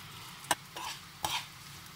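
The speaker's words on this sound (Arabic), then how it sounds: "نفس هذا الزيت اللي عندي راح اقلي به الشعرية اللي عندي، احمرها، احاول احمر الشعرية" Vermicelli being stirred and fried in hot oil left from frying almonds, with a few short scraping stirs over a faint, steady sizzle, close and quiet.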